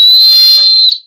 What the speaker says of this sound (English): Okay, so it's a whistle too.